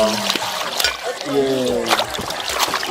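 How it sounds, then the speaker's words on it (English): Water trickles and splashes in uneven pours while a coconut is washed outdoors in a Ghanaian village kitchen, with a voice heard briefly over the water. "we're about to wash our coconut"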